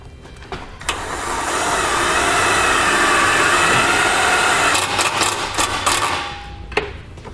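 A self-tapping tech screw is driven with a 3/8 socket through a metal bracket while a Tekonsha Prodigy P3 brake controller is fitted to a 2018 Jeep: one loud, sustained mechanical whir lasting about six seconds, with no talking.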